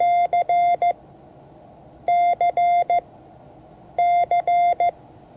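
Morse code letter C sent as a clear electronic tone, its four-element pattern of long and short beeps repeated three times with brief pauses between groups.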